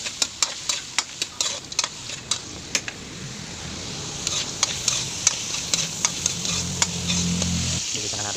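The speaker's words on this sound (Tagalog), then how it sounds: "Nahalo ko na yung karne. Para maluto na rin." Meat for pinakbet stirred in a hot pan, a spatula repeatedly clicking and scraping against the metal in an uneven rhythm over a continuous close sizzle.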